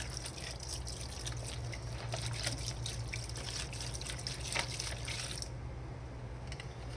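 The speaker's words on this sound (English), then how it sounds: "And just wash it down with this green shit here." Liquid green cleaner washes down a disassembled surplus firearm magazine, heard as a soft, steady splashing and trickling that runs continuously at low volume before easing off near the end.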